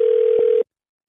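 A steady telephone dial tone opens a prank phone call, holding loud and even for just over half a second before cutting off abruptly into silence.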